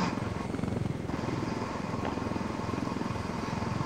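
A steady droning engine hum of an aircraft flying in a video game, loud and continuous across several seconds with a fast pulsing rhythm and no talk over it.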